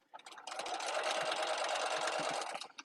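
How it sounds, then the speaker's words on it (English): A sewing machine stitches vinyl mesh in one steady burst of rapid mechanical stitching for a couple of seconds, close and clear, with no talking. "So see how I'm just sewing right down."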